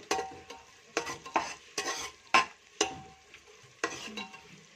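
Mutton curry spices with garlic-ginger paste and chilli powder being stirred in a pan over low gas, a spoon scraping in repeated strokes over a soft steady sizzle.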